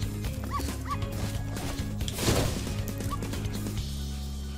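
Dog barking in the Spyro Reignited Trilogy video game, a few yips rising over busy game music and effects.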